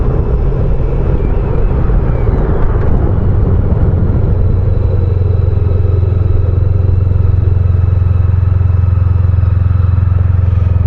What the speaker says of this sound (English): The exhaust on this is very, very quiet, so all I can hear is the engine.